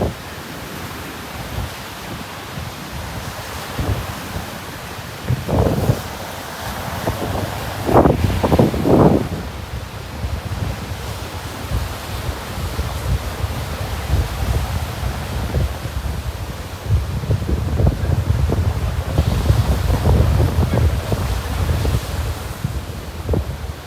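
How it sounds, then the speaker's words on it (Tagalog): Strong surf pounds Ilig-iligan Beach on Boracay during a gale warning, a continuous roar of breaking waves mixed with gusty wind buffeting the microphone, swelling louder in several surges. "Ang lakas ng alon dito sa Ilig-iligan."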